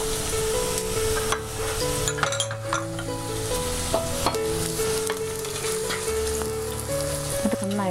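Ginger, onion and green chili sizzle loudly in a pan while being stirred, with a constant frying hiss under scraping and clinks of a utensil against the metal, close and without speech.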